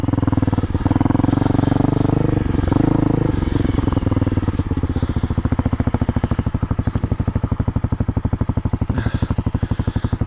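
Honda CRF250L motorcycle riding across a creek gravel bar, its single-cylinder engine loud and close, shifting from a smooth drone into a rapid pulsing putter as the throttle changes, with gravel clatter underneath.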